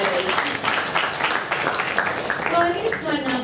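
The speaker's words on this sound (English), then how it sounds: "Another round of applause for our DFW insiders" An audience at a Singapore fashion week event claps in a dense, steady burst of applause with voices mixed in.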